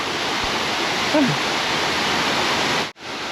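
Tad Sae Pha waterfall in southern Laos roars as a steady, loud broadband rush of falling water, close and continuous, with a brief faint vocal sound partway through and a sudden dropout near the end.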